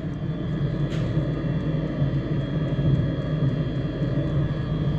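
A freshly repaired truck engine runs with a steady, deep rumble, a constant low drone heard at some distance with no voices over it.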